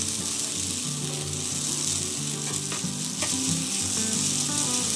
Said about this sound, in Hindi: ये करीब से 5 मिनट तक कंटिन्यू स्टर करना है।